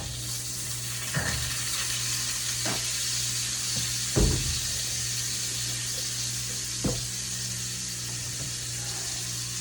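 A Gardein Ultimate Plant-Based Burger patty sizzles steadily in a pan, a constant frying hiss broken by a few soft clinks and knocks.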